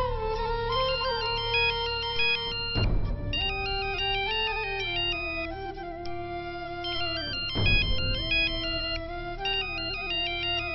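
A mobile phone ringtone plays a bright, repeating electronic melody in steady loops, broken twice by short louder bursts; no voices, and it sounds close and clear.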